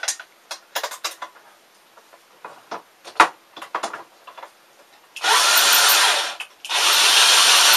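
A Lyman power adaptor driven by a drill trims a cartridge case, first with scattered scraping clicks and taps, then two sustained loud whirring bursts of the drill running, close up with no talk.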